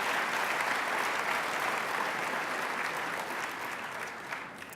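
A large conference audience at a forum opening plenary claps in a dense, sustained wash of applause that gradually tapers off toward the end.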